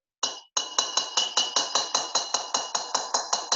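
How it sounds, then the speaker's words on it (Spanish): A hammer strikes a metal disc in silversmithing work, landing about fourteen bright, ringing metallic blows at a steady, even rhythm with no talking. "Vamos a apoyar acá y con el martillo"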